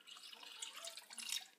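Cold tap water runs into a pan for a sugar syrup, a faint, soft, trickling splash that swells and fades over a second and a half with no talking.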